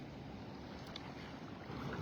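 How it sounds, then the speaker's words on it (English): Steady, loud roar of surf washing onto a beach, broadband and continuous, with wind buffeting the microphone and swelling slightly toward the end. "A lot of wave action along the beach."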